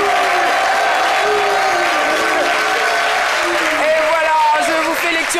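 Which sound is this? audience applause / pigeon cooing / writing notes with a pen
audience applause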